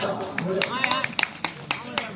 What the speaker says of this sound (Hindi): भाई भाई ताली बजाओ, ताली बजाओ।